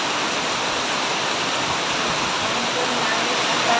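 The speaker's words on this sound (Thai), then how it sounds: "น้ำไหลมาเยอะมากเลยเนาะ" Heavy floodwater rushes steadily through a storm in Thailand, a dense, continuous roar of water that stays loud and constant throughout with no pauses.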